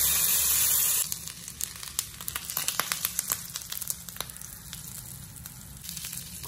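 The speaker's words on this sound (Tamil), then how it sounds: "இப்போ நம்ம இதை வந்து ஷாலோ ஃப்ரை பண்ணிடலாம்." Mashed potato patty shallow frying in butter on a hot tawa over a low flame, giving a steady close crackling sizzle with scattered pops and no talking.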